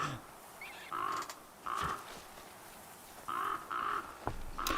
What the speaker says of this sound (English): let's see if we can shoo the crow away